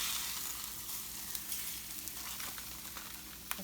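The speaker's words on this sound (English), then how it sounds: "let's get this taco out of the oil" A taco fries in hot oil with a continuous crackling sizzle, dotted with sharper pops and spatters, heard close and without talk.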